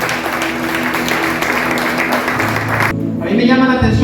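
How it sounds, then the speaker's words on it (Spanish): Broad wash of crowd applause at a church sermon, holding steady for about three seconds, then a voice rises over fading clapping. "Denle un fuerte aplauso al Rey."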